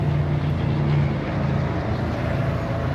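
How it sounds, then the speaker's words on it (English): An Onan 8 kW quiet diesel generator runs on a 2026 Renegade Explorer 40ERB Super C motorhome, giving off a steady low droning hum with no voices over it. "8 kW quiet diesel generator. It's actually running right now."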